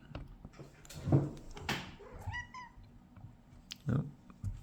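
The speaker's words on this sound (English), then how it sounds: "my cat's coming to help the war effort" A house cat gives a few short meows and chirps among soft bumps and rustles in a quiet room, faint and close.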